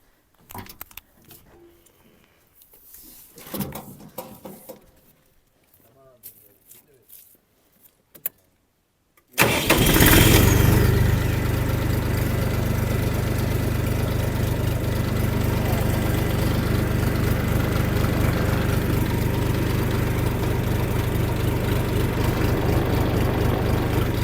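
A mini tractor's small engine starts abruptly and then runs steadily and loudly with a constant low rumble, preceded by quieter handling noises.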